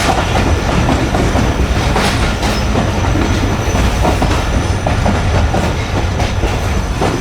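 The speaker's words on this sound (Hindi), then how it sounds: "रोड़ी के पहाड़ों के दरमियान से इस वक्त ट्रेन गुजर रही है हमारी" Tezgam express rolling between the Rohri hills on its approach to Rohri Junction, a loud, continuous rumble of wheels and carriages with rhythmic clatter and occasional squeal, steady and close throughout with no voices.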